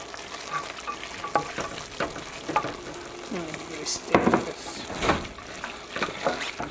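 Carrots tipped into a frying pan for a Nigerian meat pie filling, giving a steady sizzle and stirring scrapes up close, with faint voice nearby.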